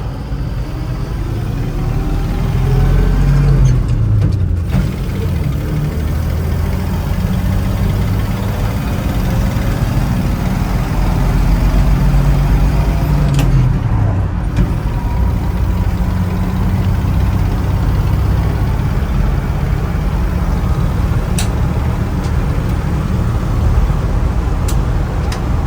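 A 1967 Chevrolet K10 Suburban driving after a cold start, its engine droning low and steady inside the cab with rising and falling revs through gear changes, a few faint clicks and rattles over the continuous rumble.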